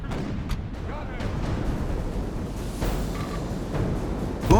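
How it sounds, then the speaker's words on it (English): Artillery bombards troops on a medieval battlefield in Medieval Total War 2, with repeated heavy booms and rumbling impacts over a dense battle din, moderately loud throughout. "The enemy has brought up artillery to bombard your forces."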